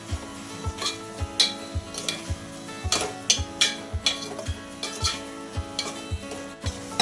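Gongura leaves being stirred into a sizzling dry fish curry in a metal pan, with a rhythmic series of spoon scrapes and clanks over steady frying, close and clear, no talking.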